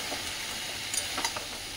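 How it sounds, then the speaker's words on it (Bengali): Fenugreek leaves fry with a chilli in a pan, giving a short, steady sizzle with a couple of light stirring scrapes near the end, with no voices. "আর এটাকে যত ভাজবে শুকনো শুকনো করে।"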